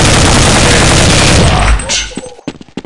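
Loud, dense gunfire from a shooter video game, a continuous burst of shots that breaks off into a few scattered sharp cracks near the end.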